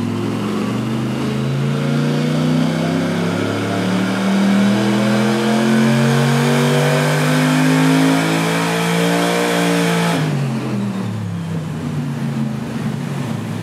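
A V8 Porsche 996 GT3 engine runs on a dyno under load, its pitch rising steadily in one long loud sweep before the revs drop sharply near the end.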